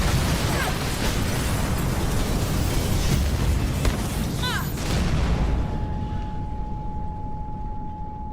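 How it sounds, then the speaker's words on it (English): A big video-game explosion roars as a loud, broad rumble that fills the scene and slowly decays, with sharper cracks and debris bursts scattered through it before fading to a lingering tone. "Big explosion over here!"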